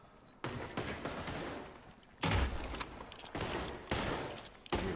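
Rapid bursts of gunfire in the video game Red Dead Redemption 2, loud repeated shots and volleys cracking one after another across a gunfight, with no talk.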